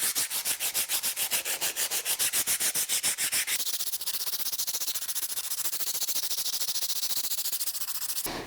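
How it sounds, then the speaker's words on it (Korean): Two wooden notebook covers being sanded by hand with 120-grit sandpaper, a loud rhythmic rasping of quick back-and-forth strokes that changes to a steadier, brighter continuous scrubbing partway through, with no talking. "우선 이 나무 표지 2개를 120방으로 사포질을 해보도록 하겠습니다."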